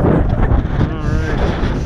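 Strong wind buffets the microphone in a steady low roar at Yellowstone, with a voice talking faintly underneath.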